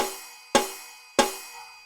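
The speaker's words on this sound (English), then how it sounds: "I've got the snare drum sound, I've got the cymbal that we've just put on top, but I've also got a cowbell and a triangle" Two hits on an electronic drum pad each fire a stacked snare, cymbal, cowbell and triangle layer, giving a sharp bright crack with a ringing metallic tail that fades before the next strike.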